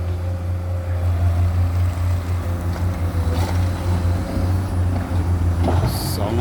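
An M-Zero model 10 boat engine running hard at speed, a steady loud low drone with constant hum and water rush throughout, a brief splash near the end.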